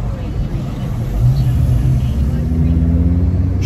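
A Ford Focus ST fitted with an oil breather kit and RS oil cooler, heard from inside as a steady loud engine drone and road rumble while driving, rising slightly partway through.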